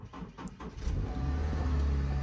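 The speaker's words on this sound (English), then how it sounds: "And just like that, the car starts right up." A car engine cranks and starts after a jump from a portable Noco battery jumper, settling into a steady, close idle rumble.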